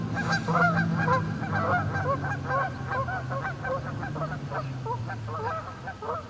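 A flock of geese honks repeatedly in a noisy, overlapping chorus, fairly close, over a low steady hum.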